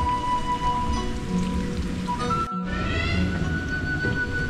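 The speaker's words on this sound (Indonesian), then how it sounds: "ini udah gerimis nih" Light drizzle patters steadily on surfaces in a rural village near fish ponds in Kampung Balier, a soft continuous hiss with a brief dropout partway through, no talking.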